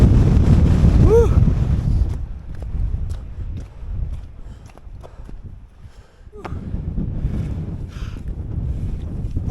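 Strong gusts on an open Lake District ridge near Wetherlam batter the microphone with loud, continuous low roaring that eases in the middle and rises again, with a brief voice near the start.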